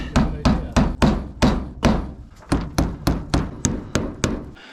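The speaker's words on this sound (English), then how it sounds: "now that we've got this all nailed in" Hammer driving nails into wood on a barndominium build, about fourteen sharp, evenly spaced blows, loud and close, with no talking.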